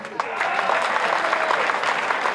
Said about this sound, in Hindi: एक बार कन्या छात्रावास के लिए जोरदार ताली।